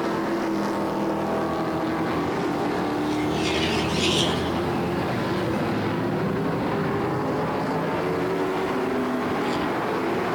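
Hot rod race cars roar around the Sunset Speedway oval, a steady loud engine drone with a passing car swelling and fading in pitch, under a race announcer's commentary.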